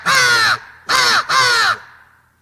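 Someone blows a crow call for turkey hunting, making three loud, close caws: a long one, then two shorter ones in quick succession, with no talking.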